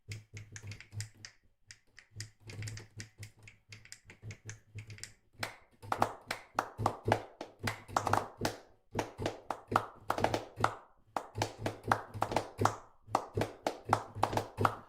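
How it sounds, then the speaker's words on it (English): Stomp and clap samples repeat in a tight music loop, sharp percussive hits in a steady groove over a low sustained tone, quieter and sparser at first, then louder and denser. "There are obviously stomps and claps."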